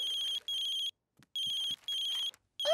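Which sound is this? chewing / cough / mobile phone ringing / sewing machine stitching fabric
mobile phone ringing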